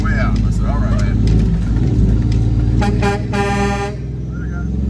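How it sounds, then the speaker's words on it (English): A Kenworth K100E Aerodyne truck sounds its horn in a short, loud blast over a heavy idling diesel rumble, with people talking nearby. "Honk the horn on the way out."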